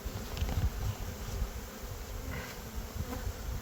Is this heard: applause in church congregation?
no